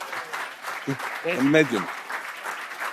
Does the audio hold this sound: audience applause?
yes